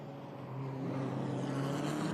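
GT4 race cars, including a KTM X-Bow and a BMW, driving at the Red Bull Ring, a steady engine drone that swells slightly as the cars pass, sustained and fairly close.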